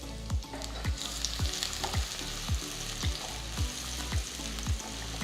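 Sliced garlic fries in oil in a kadai with a steady, quiet sizzle, punctuated by regular low knocks roughly every half second.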